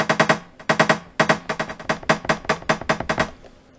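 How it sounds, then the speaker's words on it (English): Rolling percussion layered into a beat at 132 BPM, quick repeated knocking hits in tight bursts of three and four with short gaps between, punchy and close with no talking. "What I'm going to do is put some rolling percussion on there"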